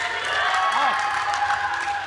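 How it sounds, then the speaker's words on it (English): A studio audience claps and cheers at a game-show form contest, a sustained wash of applause with a voice speaking over it. "Round of applause. Audience,"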